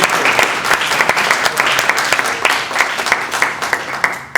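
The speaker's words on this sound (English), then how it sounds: "Give him a round of applause." Audience applause at a Chicago-style community event launching a home mortgage initiative, a dense steady wash of many hands clapping close and loud, continuing throughout with little letup.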